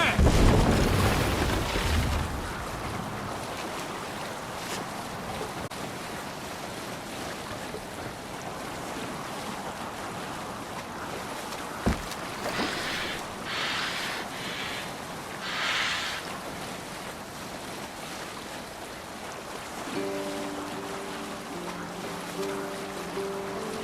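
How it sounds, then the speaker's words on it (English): A ship sailing on open sea in Assassin's Creed Valhalla: a broad wash of wind and waves rolls on steadily, with a brief thump near the middle and a soft tonal game cue rising near the end. "Happy sailing here, Eivor!"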